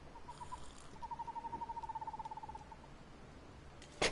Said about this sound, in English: The bird noises are cool.